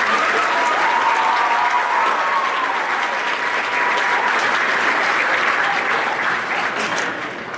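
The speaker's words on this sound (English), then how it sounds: "So just one more round of applause for Ms." Steady, dense applause from a school band and chorus concert audience, loud and sustained throughout, tapering slightly at the very end with no talking over it.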